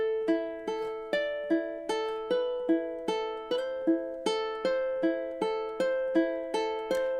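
A ukulele plucks measures 14–15 of The Last of Us main theme, a steady series of bright, ringing strums and notes with clear attacks and decaying sustain, played solo with no talking.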